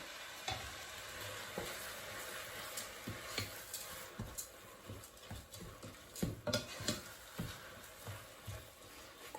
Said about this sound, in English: I'm going to get my ladle, put in a ladle full of the warm stock